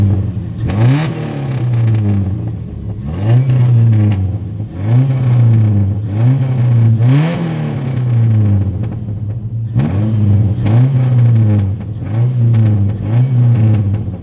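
A Chevrolet S10 truck engine with performance headers and a Flowmaster 44 exhaust, revved in a series of about six repeated throttle blips, loud and close, each rising sharply and then falling back to idle, with crackles and pops.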